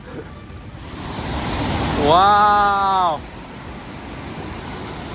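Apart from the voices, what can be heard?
waterfall by a bridge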